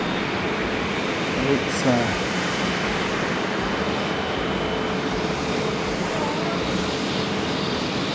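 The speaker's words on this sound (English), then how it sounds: "after this fancy jet" A jet airliner's engine at Haneda airport roars steadily in the distance as a broad, continuous drone, with someone speaking briefly over it.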